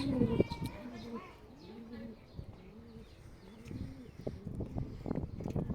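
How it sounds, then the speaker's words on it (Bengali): Wild wood pigeons kept caged beside a loft, soft repeated cooing phrases at close range, rising and falling over a few seconds, with faint background noise and scattered clicks. "আর এই যে বন কবুতরগুলো 4টা এখানে আটকে রাখছি।"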